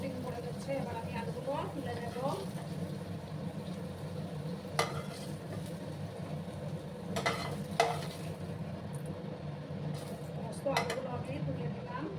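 Potatoes fry in a little oil in a pan over a low gas flame for aloo bhindi. A steady, soft sizzle runs throughout, broken by a few sharper clinks and scrapes of stirring.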